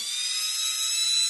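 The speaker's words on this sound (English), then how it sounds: "So I'll drill that hole, and then I'll drill me another hole." A steady, high-pitched electric drill whines continuously for a moment, close and loud.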